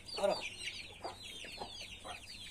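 Soft, repeated clucking from a black rooster, a few short calls spaced out over a quiet background hum.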